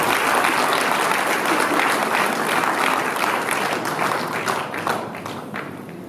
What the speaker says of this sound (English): Please give a big clap.